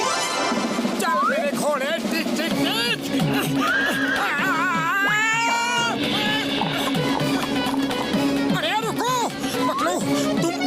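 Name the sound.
horse neighing in a cartoon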